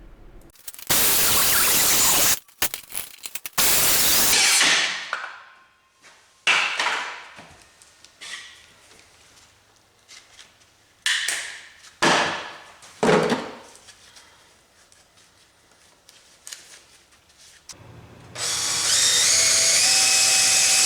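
A hand saw cuts spacers from a 2x6 wooden board in short, irregular rasping bursts separated by pauses. A longer, steadier stretch of cutting comes at the end, close and fairly loud.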